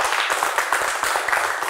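Classroom group applause for a student team, brisk scattered clapping from a small crowd filling the short moment.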